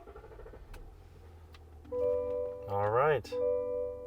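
Starter cranks and an LM2 Duramax diesel in a 2021-2024 GMC Yukon catches with a rising whine and settles into a steady idle, close up, with a brief spoken phrase at the start.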